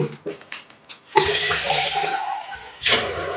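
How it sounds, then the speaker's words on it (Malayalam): Water pours steadily in a hissing rush after a few clinks, pauses briefly, then pours again, fairly close and loud. "ഇച്ചിരി വെള്ളം ഒഴിച്ചാൽ മതി"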